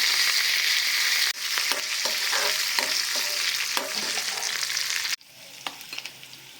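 Hot oil tempering with cumin, green chillies, sesame seeds and fresh coriander sizzles and crackles loudly and close up while being stirred, then the frying noise drops off sharply near the end, leaving faint spits.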